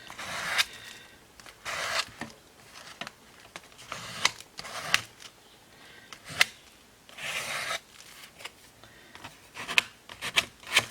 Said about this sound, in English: I'm just putting it on the back of a palette knife and then just running it sort of over the edge of the card